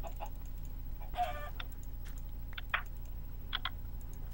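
Chickens in the Minecraft video game, several short clucks and chirps scattered across a few seconds over a quiet background hum, with faint keyboard clicks and no talking.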